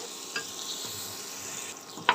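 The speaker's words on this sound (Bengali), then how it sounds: "একসঙ্গে ভালো করে ভেজে নেবো।" Red amaranth greens stir-fried with shrimp, onion, garlic and green chili in a home kitchen, a soft steady sizzle broken by a few sharp scrapes and clinks of the spatula against the pan.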